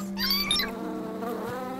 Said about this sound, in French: c'est en battant des ailes qu'on obtient un miel plus épais